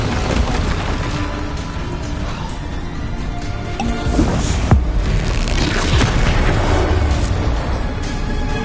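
Bombarda explosion spells go off in the video game Hogwarts Legacy, loud booming blasts and bursts layered over dense game action, continuous and busy throughout with a heavier impact near the middle.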